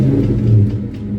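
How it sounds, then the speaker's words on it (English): 1999 Mustang SVT Cobra engine idling roughly right after a cold start, a loud close low rumble with a slight swell in revs before settling. "I'm gonna go ahead and give us a little cold start though"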